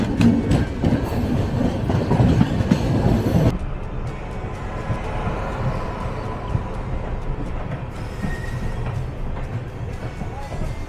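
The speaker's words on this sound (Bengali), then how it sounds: "2 মিনিটের আগেই ট্রেন রওনা দিল।" A passenger train pulls out of a station on the Kolkata to Darjeeling line, running late; loud rumbling and clattering wheels dominate before the noise drops to a steadier, quieter interior hum with faint rattles.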